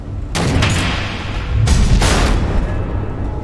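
Missile explosions in Batman: The Telltale Series, two heavy booming blasts a second apart, loud and rumbling with a sustained roar between and after them.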